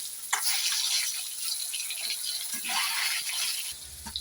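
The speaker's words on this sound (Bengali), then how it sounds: "দিয়ে দিচ্ছি ডিমগুলো।" Eggs frying in hot mustard oil seasoned with salt and turmeric, a steady soft sizzle and crackle with faint utensil rattles, close and moderately quiet, no talking.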